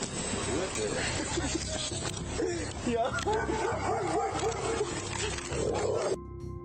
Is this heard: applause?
no